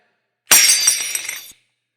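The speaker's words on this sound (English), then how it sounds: "The bong crashed on the wall and shattered." A glass bong smashes hard against a wall and shatters into a bright spray of tinkling shards that rattle for about a second before stopping abruptly.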